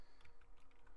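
Keystrokes on a computer keyboard while setting up a custom SQL application on a Palo Alto Networks firewall, a quick irregular run of soft clicks, close and faint, with no talking.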